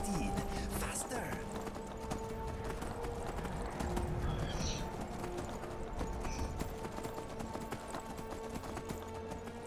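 Horse hooves gallop in a steady, fast clip-clop rhythm in the Skyrim video game, with a neigh near the start, while someone talks excitedly over the game sound.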